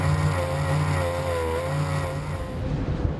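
A Zapcat racing boat's outboard engine drones steadily on board at a Newcastle grand prix, a loud continuous buzzing note with slight pitch wavering, fading somewhat toward the end.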